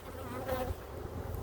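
A small clump of honey bees from a beehive drones in a close, continuous buzz, soft and steady with no talk.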